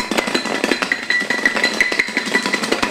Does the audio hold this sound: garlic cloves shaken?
yes